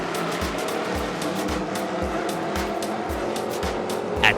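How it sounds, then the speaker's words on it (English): A loose race car drifts around the corners at Kingsport Speedway, its engine roaring loud and close with a rapid, regular pulsing rasp and tire scrub, in a continuous blare that swells briefly near the end. "Conway fought a loose race car drifting around the corners"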